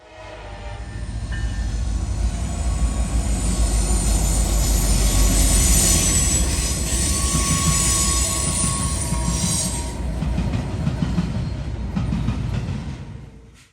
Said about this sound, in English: a westbound intermodal comes flying in